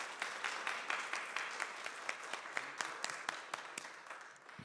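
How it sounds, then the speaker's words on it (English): Applause from a church congregation at a labyrinth re-dedication service, moderate and fairly distant, with distinct individual claps standing out from a steady wash of clapping. "also a round of applause for our volunteer"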